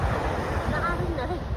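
Sea waves wash ashore at a beach in San Felipe, Zambales, a close, rough surf mixed with wind buffeting the microphone, and someone talks over it.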